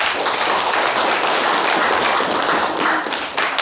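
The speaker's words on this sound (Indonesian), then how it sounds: "Kapiang Honde, mari kita tepuk tangan." An audience claps at a school principal handover ceremony, a steady, dense stream of hand claps that carries on evenly for several seconds with little else over it.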